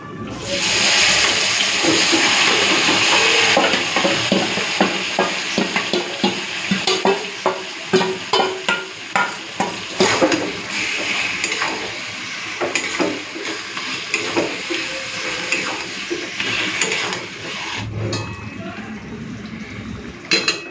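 Marinated chicken fries in oil for a Bengali chicken curry with ground spices, starting as a loud, close wet sizzle and settling into repeated rhythmic stirring and scraping against the pot, with no voices.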